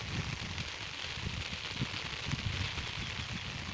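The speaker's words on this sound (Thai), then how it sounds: "บรรยากาศแบบฝนตก" Steady rain falls on an Ubon Ratchathani farm in Isan, a continuous broadband patter with scattered drop taps throughout, moderately loud and unbroken, with no voices.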